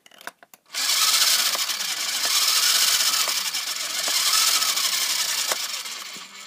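A battery-powered toy jet engine, running low on batteries, whirs up after a few clicks and then holds a loud, steady high-pitched rushing whine that swells and dips slightly throughout, with no talk.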